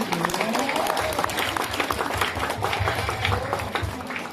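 Applause rises from a crowd at a Balinese temple piodalan ceremony during a Prembon performance, with scattered clapping mixed with low gamelan-like tones and some voices nearby.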